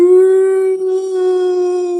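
A person's voice mimicking a dog howling in its sleep during a nightmare, one loud, sustained, wavering tone held for about two seconds, close and alone.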